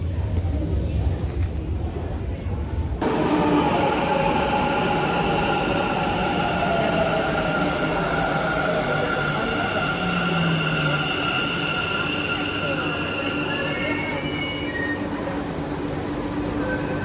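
A Bangalore metro train rolls past with a loud steady rumble and rising, shifting whine, wheels and motors droning continuously after a sudden onset, close by and sustained throughout.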